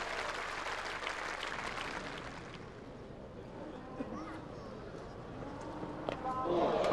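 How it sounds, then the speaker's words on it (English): Cricket crowd and players' balcony give a standing ovation at Somerset v Glamorgan, a 1997 County Championship match. Dense applause rolls loudly for a couple of seconds, then thins into scattered clapping while a commentator's voice carries on. "It's again, another standing ovation."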